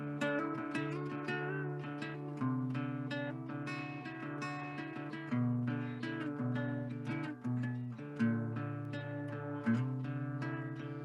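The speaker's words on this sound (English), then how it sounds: "it's a little descending pattern that sounds like this." Guitar playing a looping descending bass-line pattern, plucked notes stepping downward under ringing higher strings, repeated several times at an even, relaxed tempo, close and clear with no voices.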